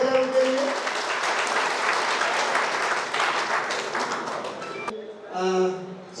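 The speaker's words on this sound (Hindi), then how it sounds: "जोरदार तालियां हो जाए उनके लिए।" A crowd at a community association gathering in Bhagalpur breaks into loud, dense applause that holds steady for about five seconds, then stops abruptly as a voice takes over.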